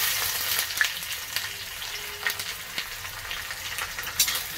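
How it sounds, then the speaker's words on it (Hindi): Two chopped onions frying in hot oil give a steady, close sizzle with occasional stirring clicks. No voices are heard. "तेल हमारा गर्म हो चुका है और मैंने यहाँ पे दो कटे हुए प्याज लिए हैं, वो मैं ऑयल में ऐड कर दूँगी"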